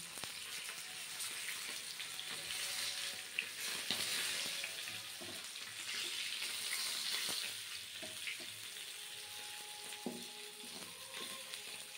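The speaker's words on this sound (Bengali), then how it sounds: "মাছ ভাজা হয়ে গেছে" Tilapia sizzles and spits in oil at a moderate distance, a continuous crackling hiss with occasional clinks and light handling noises.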